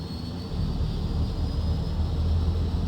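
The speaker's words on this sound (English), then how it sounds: "monitoring the engine as it spools up" Aircraft engine spooling up on start in Microsoft Flight Simulator, a loud steady rumbling roar with a thin high whine on top, continuous and close with no talk.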